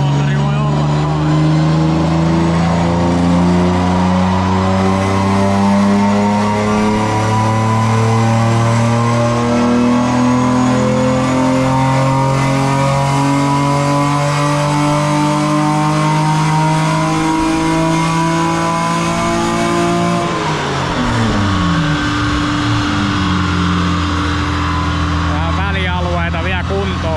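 A BMW rally car's engine drones loudly and steadily while driving, its pitch climbing gradually under acceleration, then dropping suddenly near the end as revs fall before picking up again, close and continuous.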